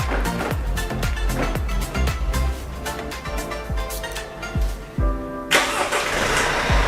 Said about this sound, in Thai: เราสามารถสั่งงานสตาร์ทรถนะครับ